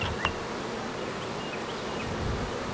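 Honeybees hum in a dense, steady drone from a healthy, active hive, filling the space at close range with no pauses and no talk.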